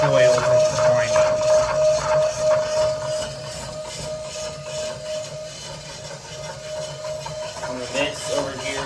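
An Arduino-controlled coil winding machine runs steadily, its feeder sliding back and forth to lay even coils, giving a continuous mechanical whir with a sustained tone and faint rhythmic rubbing, close and fairly loud.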